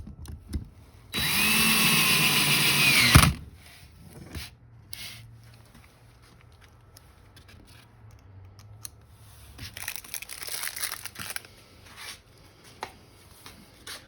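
A power drill runs in one steady, loud two-second burst early on during assembly of an LED nightstand, followed by quieter clicks, handling noises and a low hum.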